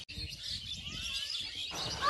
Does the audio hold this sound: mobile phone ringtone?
no